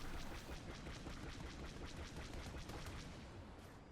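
Dense, continuous barrage of explosions and booms from bomber proton torpedoes striking an AT-AT walker on Hoth in the Star Wars Battlefront 2 video game, loud and unbroken with no pauses.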